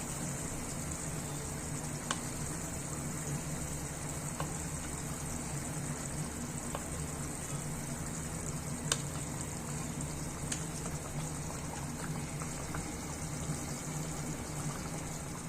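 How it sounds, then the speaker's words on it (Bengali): Tomato curry gravy with rohu fish simmers at a rolling boil, giving a steady close bubbling hiss throughout, broken by a few faint clicks and pops, with no voices. "ঝোল ফুটে গেছে, এবার এক এক করে মাছ ছেড়ে দিলাম।"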